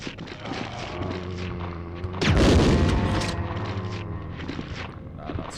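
A heavy grenade-launcher explosion from Resident Evil 2 (1998) booms loudly about two seconds in and rumbles away over several seconds, with quieter game noise and mechanical sounds before and after.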